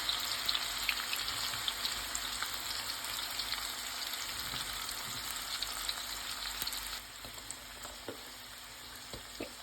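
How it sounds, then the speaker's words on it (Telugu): Onions fry in oil in a pan for chicken biryani with a steady, dense crackling sizzle that holds throughout and eases slightly near the end. "ఆనియన్ బాగా ఫ్రై అవుతుంది."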